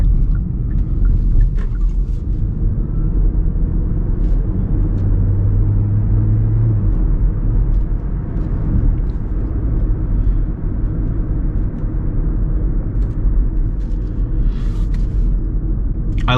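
A Hyundai Ioniq Hybrid's engine drones with a steady low rumble from inside the cabin while driving, a constant grumbling hum mixed with road noise and no talking.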